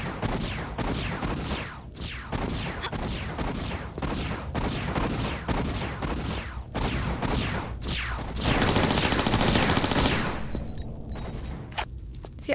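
Enemy gunfire in Tomb Raider 4: The Last Revelation inside Menkaure's Pyramid, a rapid steady string of loud sharp shots repeating for several seconds, then a brief noisy burst before fading.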